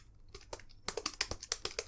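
Fingers tap on a computer keyboard, a few scattered keystrokes followed by a quicker, steady run of close, crisp clicks.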